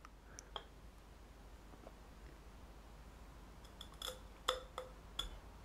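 The tungsten carbide tip of a Sanrenmu 6050LUF-PH-T4 knife scratches a glass jam jar, giving faint scattered ticks and then a few sharper, brighter glassy clicks near the end against a quiet background.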